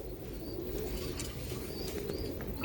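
A male champion pigeon coos softly in low, faint, repeated murmurs against quiet background noise, with no one talking.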